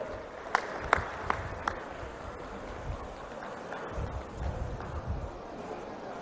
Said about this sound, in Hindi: आइए जोरदार तालियों से माननीय मुख्यमंत्री जी का स्वागत करेंगे